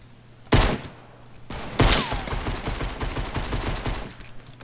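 Video game gunfire: two loud close bursts of rapid shots, the second trailing into a steady stream of fainter distant shooting that continues to the end.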